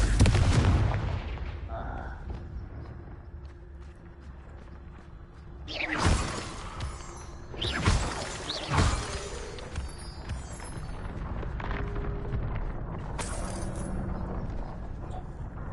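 Confringo fire spells explode in the Hogwarts Legacy video game, giving a few sharp, loud blasts a couple of seconds apart over a rumbling background of combat and game sound effects.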